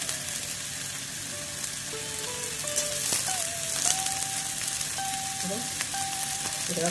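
Capsicum hitting hot oil in a pan for handi chicken, a steady loud sizzle and crackle filling the whole stretch, with faint tonal notes of background music underneath.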